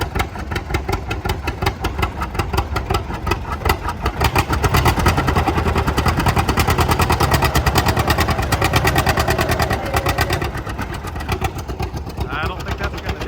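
Tractor engine working hard under load during a deadweight pull, running loud and steady for about thirteen seconds, swelling midway as it strains and spins out, with people talking over it.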